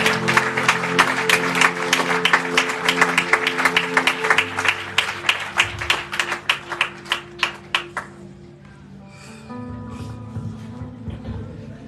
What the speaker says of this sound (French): je vous demanderai encore de donner un tonnerre d'applaudissements pour ce grand homme qui est ici